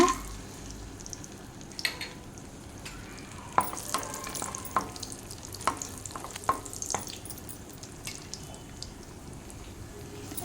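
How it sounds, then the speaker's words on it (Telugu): Vermicelli fries in a pan with a soft, steady sizzle, broken by scattered clicks and scrapes of stirring against the metal, fairly quiet and with no voices. "ఇవి వేయించిన తర్వాత సేమియా వేసి వేయించాలి"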